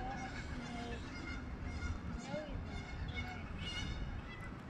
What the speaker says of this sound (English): Those geese are just mocking you, Luna.